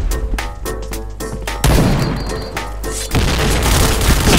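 Bombs go off in the online shooter Point Blank, several deep booming blasts and crashing impacts in quick succession, loud and close, the last explosions running into a sustained rumbling roar.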